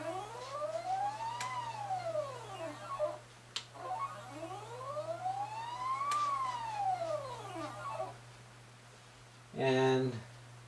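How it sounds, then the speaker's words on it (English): A motorized timelapse dolly motor whines up and down in pitch in two long rising and falling sweeps, close and clear, with a brief voice at the end. "which should let me move the motor"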